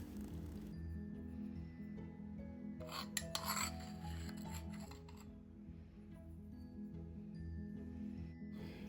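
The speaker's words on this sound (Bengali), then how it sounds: "এবার এই গুঁড়ো দুধটা খুব ভালো করে আমি নারকেলের সাথে মিশিয়ে নেব।" A spoon stirs grated coconut with powdered milk for Bengali coconut naru, making a steady close scraping and rubbing sound over a low background hum, briefly louder near the middle.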